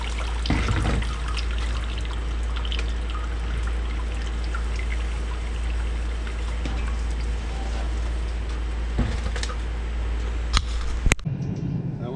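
Blood drains from a culled chicken in a steady trickling pour, continuous and close, with a few sharp knocks near the end as it stops.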